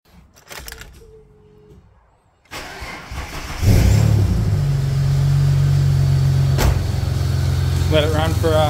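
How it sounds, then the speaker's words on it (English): A Ford Falcon EF XR6 engine cranks and catches after a few clicks and a brief whine, then settles into a loud, steady idle up close, with a voice speaking briefly near the end. "I've got to start the engine up and let the oil warm up and thin out"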